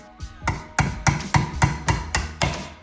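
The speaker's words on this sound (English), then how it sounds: "I'm just going to hammer it all the way in so it's nice and secure." Seven sharp metallic hammer strikes driving a C-clip into a BMW E46 limited slip differential, at a steady, evenly spaced rhythm, close and fairly loud, with no talking.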